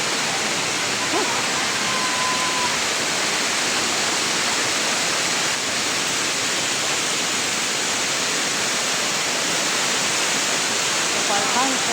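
The waterfall at Parkhan Falls in Ilocos pours in a dense, constant roar and rush of water that stays even and loud throughout.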